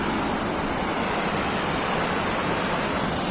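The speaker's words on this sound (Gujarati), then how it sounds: "આ બાજુ પાણી પસાર થઈ રહ્યું છે ખળખળ વહેતું પાણી" Steady rushing river water flowing continuously, a dense broadband wash with no breaks, fairly loud and close, with no voices.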